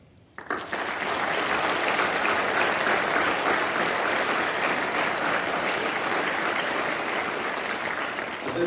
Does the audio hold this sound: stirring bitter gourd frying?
no